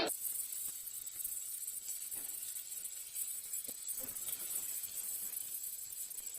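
Curry leaves sizzle in hot oil after the mustard seeds have spluttered, cooking for a village-style fish curry: a steady, bright hiss of frying that holds at an even level, with a few faint crackles, and no talk.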